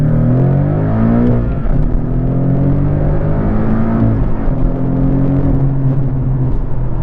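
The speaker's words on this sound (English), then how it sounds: "So we're going to accelerate now in sport mode and show you what that sounds like versus normal." A Porsche 718 Cayman GTS with Fabspeed Supercup exhaust revs hard and accelerates in sport mode, a loud sustained roar with rising and falling pitch as it climbs through gears, no talking.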